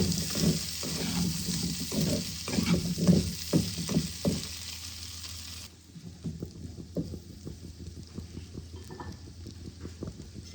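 Potatoes frying in a pan for an egg and potato masala curry, a steady close sizzle with bubbling pops that drops to a quieter, softer crackle partway through.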